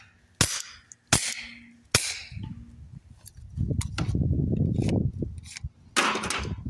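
Suppressed rimfire shots from CCI standard velocity ammunition fired through an AAC Element 3 suppressor outdoors. Three sharp, close cracks come in quick succession, then quieter snaps and a burst of rustling or shuffling, and a final loud report.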